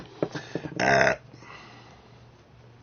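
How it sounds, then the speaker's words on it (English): One loud, close burp of about a third of a second comes after drinking Surge soda, with small clicks and handling noise around it in a quiet room. "Surge makes you burp."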